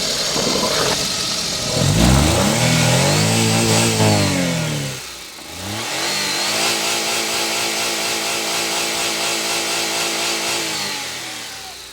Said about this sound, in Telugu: ఇక్కడ నేను రేస్ ఇస్తున్నాను